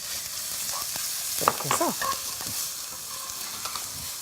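Sliced ginger fries in a generous pool of oil in a tilted pan, a steady close sizzle with a burst of crackling and stirring scrapes in the middle, under a brief spoken remark.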